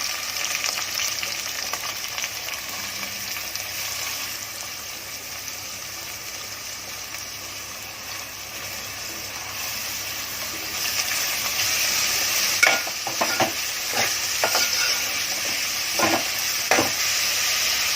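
Okra and onions frying in a pan with a steady sizzling hiss, then sharper scraping stirs near the end, close and continuous with no talking.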